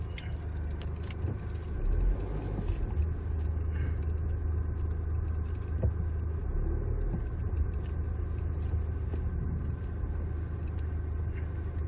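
Cars move through a busy weekday parking lot at a camping store in Gimpo, with a low, continuous engine rumble and idling drone and a few faint jingles early on.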